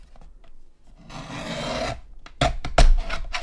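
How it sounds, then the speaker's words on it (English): A paper stencil is trimmed, producing a sustained rasping cut followed by several short, sharper snips and rubs, close and clear with no talking. "we're going to go and just trim this a tad"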